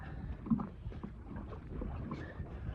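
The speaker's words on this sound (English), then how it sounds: "I hope you can hear this and the wind isn't too bad" Wind gusts buffet a small fishing boat at sea off the UK while rays are fished, a steady rough rumble with low thumps and choppy water noise, with no voices.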